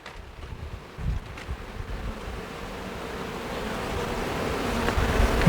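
Honeybees buzz around an open beehive during a hive check, a continuous close droning hum mixed with light wind noise on the microphone, growing louder toward the end.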